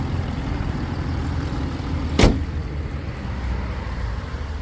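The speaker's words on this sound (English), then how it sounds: "Nice and quiet motor. It's turbo diesel." A Ford F150 with a 3-liter turbo diesel running at idle, a steady, fairly loud low rumble with one sharp click partway through.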